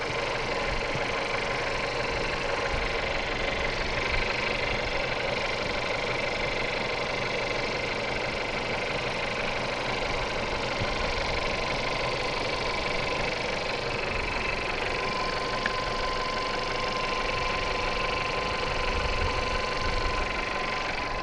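A car engine, just washed with water, idles steadily and loudly for the whole stretch, a constant rumbling hum with faint knocking, no voices.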